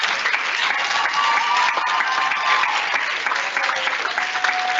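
Sustained applause from a recital audience for young singers, a thick even roar of many clapping hands with no break, lasting about five seconds.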